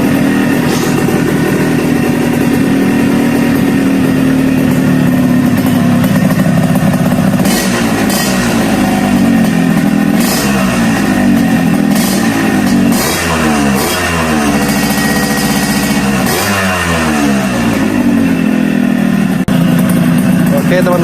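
Modified Yamaha RX King two-stroke motorcycle engine running close by, a raspy idle broken by repeated throttle blips that rise and fall in pitch, with talk over it.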